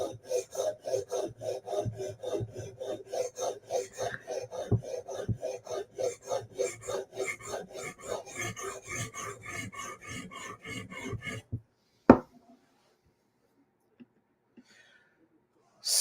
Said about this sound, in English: Yep, sharpening a Hinderer.